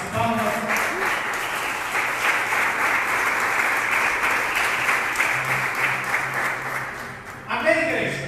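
A church congregation claps hands in praise during a worship service, a loud, dense and continuous wash of applause that fades near the end as a voice begins speaking.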